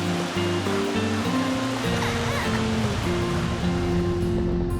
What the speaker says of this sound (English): Another cascade of cool, life-giving water flowing down the flanks of the Dragon's Tail.